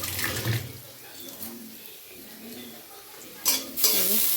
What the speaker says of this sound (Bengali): পেঁয়াজটা ভাজা হয়ে গেছে, দেখতে পাচ্ছ।